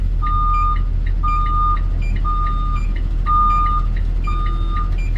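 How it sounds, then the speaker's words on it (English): A school bus sounds its reversing alarm while backing up, a steady series of five evenly spaced electronic beeps heard clearly over a low idling engine rumble. "Gonna back up the bus."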